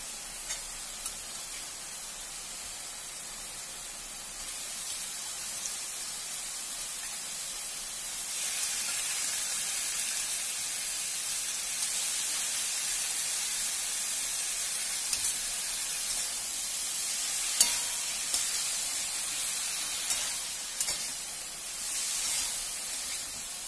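Taro pieces fry with lentil bori in an oiled pan, giving a steady broad hiss and sizzle that carries through the whole stretch, with faint clicks of stirring and no talk.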